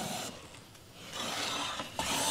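A hand plane with a standard 45 degree blade pitch takes a very light pass across a wooden board. Two or three close, dry rasping strokes shave the wood, with no talking.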